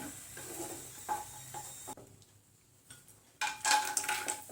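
Cashews being stirred in ghee in a pan until golden, giving a steady soft sizzle with scraping and stirring scuffs. A brief quiet gap breaks it before louder stirring and clinks return near the end.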